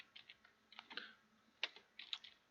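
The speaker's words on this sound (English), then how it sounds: "I'm going to type food" Typing on a computer keyboard: scattered, fairly quiet key clicks in irregular bursts, with a few sharper taps standing out, close by and with no voices.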